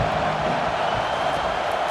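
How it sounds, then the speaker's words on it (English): Stadium crowd in a college football video game, Michigan State against USC, roaring on a third-down defensive stand: a loud, dense, continuous wall of cheering noise with no clear breaks. "Decibels rising as the crowd gets behind this defense on third down."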